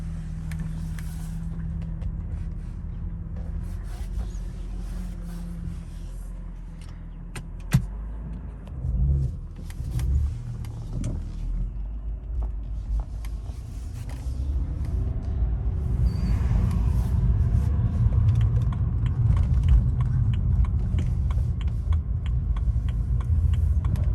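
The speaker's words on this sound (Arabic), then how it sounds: "هسه راح نطلع بيها، حشوفكم اياها شلون حلوه السياره سريعه" A BMW 300-series sedan: faint interior clicks and a sharp thump come first, then the engine rumble swells and settles into a steady, close drone as the car pulls away and drives, with no one talking.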